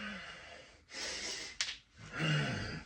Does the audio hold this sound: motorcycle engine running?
no